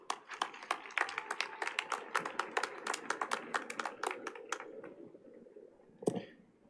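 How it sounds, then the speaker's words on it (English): Applause from a graduation ceremony audience for a school superintendent, a dense steady patter of many hands clapping that tapers off toward the end, with a brief louder sound just after. "Please give a round of applause to our superintendent, Dr. Xavier De La Torre."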